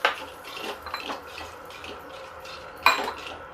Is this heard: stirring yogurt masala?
yes